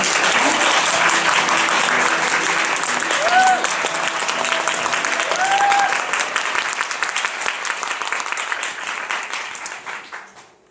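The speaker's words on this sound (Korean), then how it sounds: "큰 박수로 맞이해주시기" A theater audience applauds loudly as the actors come on stage, a dense, sustained wash of clapping that holds for several seconds and then tapers off, with brief voices heard over it.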